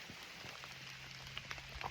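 Steady rain patters through the woods on public land in early November, a continuous soft hiss with a few scattered sharper drops, heard alone without talk.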